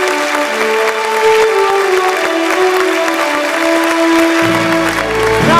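A stage event audience applauds to welcome a guest, with dense continuous clapping close and loud throughout and a sustained musical tone underneath.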